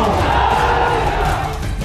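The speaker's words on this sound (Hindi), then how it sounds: "सीएम योगी जैसे ही मंच पर पहुंचे तो जय श्री राम के नारे से पुरुलिया" A large rally crowd in Purulia, West Bengal chants Jai Shri Ram slogans as the chief minister reaches the stage, a loud, dense roar of many voices sustained throughout.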